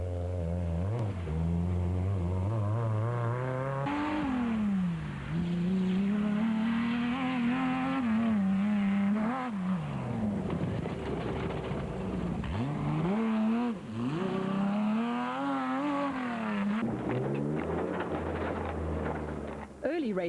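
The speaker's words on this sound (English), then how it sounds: "And LaRue were 3rd overall in the Toyota Hilux and being chased by the de Kreefs" Rally cars racing in a desert off-road event, including a Toyota Hilux, with engines roaring and revving continuously near and loud, pitch rising and falling through gear changes, while a voice talks over the top.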